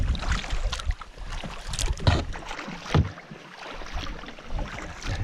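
Heavily laden canoe paddled across a windy loch on Rannoch Moor, with steady wind buffeting the microphone and irregular splashes and knocks of paddle strokes, close by and without voices.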